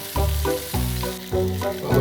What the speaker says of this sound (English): I don't know what's going on with the tomatoes and the mushrooms, but they're cooking away.